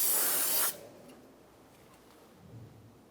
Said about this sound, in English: Now you can spray it down